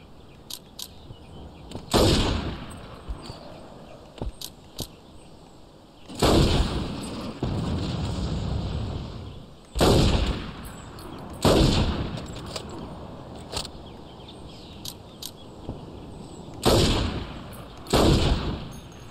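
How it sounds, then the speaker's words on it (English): Heavy booms and gunfire from a Saints Row 2 firefight with RPG rockets, about six loud blasts spaced a few seconds apart, each trailing into a rumbling decay over steady background noise. "Where's the guy with the RPG? I heard another one."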